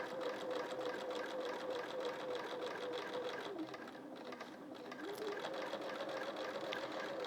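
Domestic sewing machine running at its highest speed while quilting, a continuous fast, even whirring stitch rhythm that briefly slows and dips midway before resuming, close and steady.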